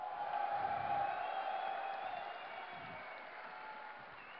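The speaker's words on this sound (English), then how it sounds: "Let's give a cheer for our first finalist, Nama!" Steady crowd applause with some cheering at a StarCraft II esports tournament (DreamHack 2010), a dense wash of clapping that is loudest at first and then gradually eases off.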